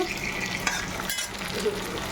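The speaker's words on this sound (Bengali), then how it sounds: "পেঁয়াজটা ভাজা ভাজা হচ্ছে" Onion frying in hot oil in a pan, a dense, steady sizzle close by with occasional stirring scrapes mixed in and no talking.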